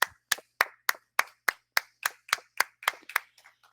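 At a university anniversary gala, sharp, evenly spaced claps ring out about a dozen times at a steady beat, crisp and close, with each one distinct and the last few softening.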